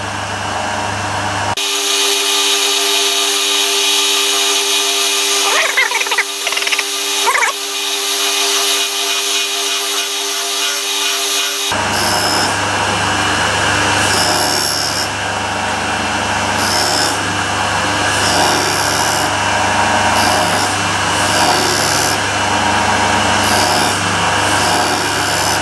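A grinder works on a metal pole, a continuous loud whine with a high tonal band, then shifts to a rougher grinding texture with regular pulses in the upper range for the rest of the long stretch.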